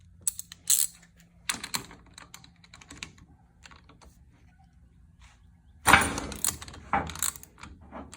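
A Craftsman wrench works a shock bolt loose on a Bronco during a lift install, giving sharp metallic clicks and ratcheting clatter in short bursts separated by near silence, with a louder burst of rattling toward the end.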